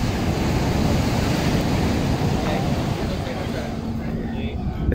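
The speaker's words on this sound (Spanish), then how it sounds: "Escuchan el mar" Steady broadband roar of sea waves washing in at Puerto Vallarta's malecón, continuous and fairly loud, with wind buffeting the microphone throughout.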